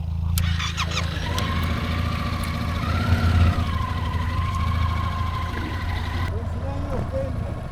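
A motorcycle engine runs close by in first gear while the rider rolls on half clutch and brakes during a tour through Diyarbakır in southeastern Turkey. A steady loud rumble rises slightly in pitch and continues throughout.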